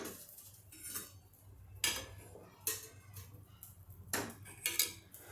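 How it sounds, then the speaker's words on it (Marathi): An iron kadhai is lifted off a gas stove in a home kitchen, giving several faint metallic clanks and scrapes spaced apart against a low hum. "आधी ही कढई उचलून घेते."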